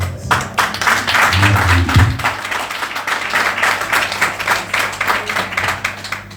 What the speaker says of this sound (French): On peut applaudir la chorale.